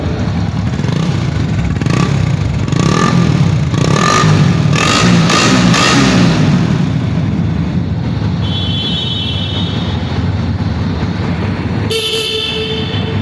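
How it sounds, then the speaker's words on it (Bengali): A used motorcycle at a bike dealer's yard in Bogura runs loudly and steadily while several horn toots blare over it, with a final sharp honk near the end. "এই বাইকটা স্টার্ট দিলাম"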